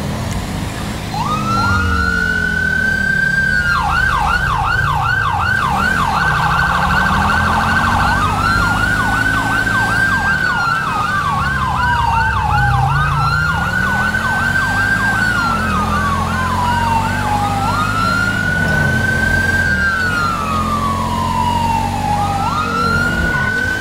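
Police car siren in a video game, a loud continuous wailing and yelping tone that rises and sweeps repeatedly over a steady engine roar, with no talk.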